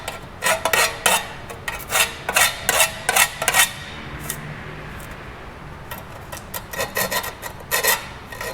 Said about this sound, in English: Get a file, make the edges a little nicer.